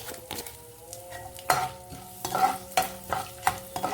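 Asafoetida goes into a sizzling tempering for instant carrot chutney, with steady frying hiss under repeated scraping strokes of a spoon stirring the pan, close and moderately loud.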